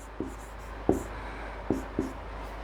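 A pen or marker taps and scratches on a board in a classroom lesson, giving four brief, faint strokes against a quiet room hum, with no talk.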